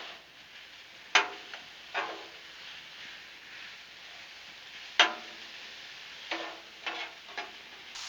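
Turkey, peppers and onions sizzle quietly on a Blackstone griddle, a soft steady fry broken by several sharp scraping clicks of a spatula against the steel.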